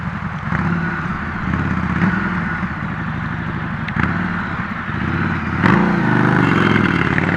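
A motorcycle with a modified aftermarket exhaust runs close by with a rough, throbbing engine note, sharpening into short revs at intervals and one stronger blip near the end.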